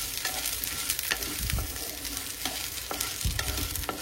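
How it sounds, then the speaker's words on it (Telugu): Coconut pieces and green chillies fry in a pan with a steady, close sizzle, broken by repeated scraping and clinking as the mixture is stirred. "ఇవన్నీ బాగా కలుపుకొని ఒక 2 మినిట్స్ కొబ్బరి ముక్కలు ఫ్రై చేసుకోండి"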